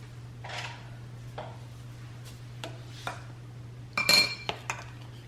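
A spoon lightly clinking and tapping against a dish during agua chile preparation, several soft, scattered knocks ending in a brighter cluster of clinks, close but quiet over a low steady hum.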